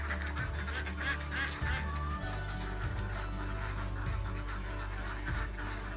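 Ducks at a garden pond honk and quack repeatedly, a busy chorus of nasal calls over a steady low outdoor rumble.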